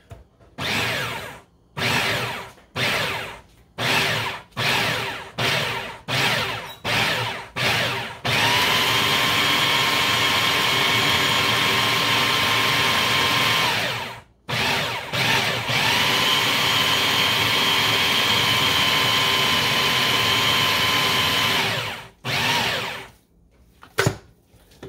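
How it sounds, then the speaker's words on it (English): A kitchen blender or grinder mixing a homemade carp bait blend, first in a series of short pulsed bursts, then running loud and steady for long stretches with a brief stop midway, all close and with no voices. "Let me grind a couple more."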